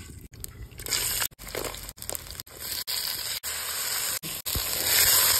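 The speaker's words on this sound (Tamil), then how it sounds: "கடுகு போட்டுடலாம்." Mustard seeds crackling in hot oil for a banana stem and toor dal dish, a dense close sizzle with sharp pops and crisp crunchy bursts running continuously, no voices.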